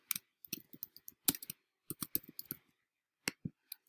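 Keyboard typing while entering an email recipient and subject: short bursts of quiet key clicks in irregular clusters with brief pauses, close and alone.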